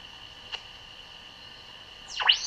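Direct conversion shortwave radio receiver tuned to the phone portion of a ham band, copying the opposite sideband: faint steady tones and hiss, a brief click, then a sweeping squeal near the end.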